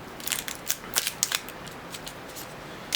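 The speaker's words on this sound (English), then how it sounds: "Next thing we want to do is take off the foil" Foil is torn and peeled from the neck of a champagne bottle, giving a series of sharp crinkling, crackling bursts at an irregular rhythm, close and fairly clear.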